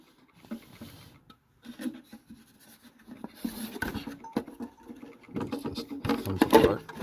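Tight-fitting box being pulled open after its screws are removed, heard as faint close scraping, creaks and small knocks that build into louder rattling and clinking toward the end.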